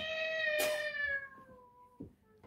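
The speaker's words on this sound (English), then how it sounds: "we've got a cat right there." A cat meows once with a long, drawn-out, falling tone, fairly faint. A brief rustle and a couple of soft knocks follow.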